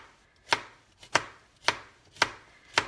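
A knife chops vegetables into rounds on a cutting board, five crisp, evenly spaced chops about half a second apart, close and clear with nothing else heard.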